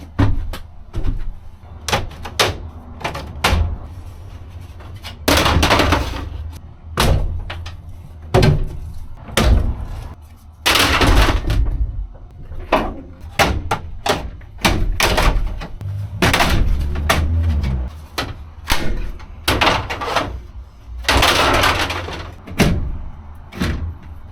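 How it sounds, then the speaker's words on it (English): Rear doors being taken off a passenger van during a gut-out, with repeated metallic thunks, clanks and door-like knocks at close range, loud bursts scattered over a steady low rumble and no talking. "let me see if I can take these rear doors off as well"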